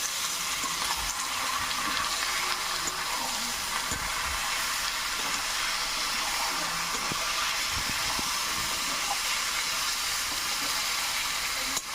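Marinated goat meat frying in spiced oil as it is stirred in the pan, a loud, continuous sizzle with occasional soft scrapes throughout.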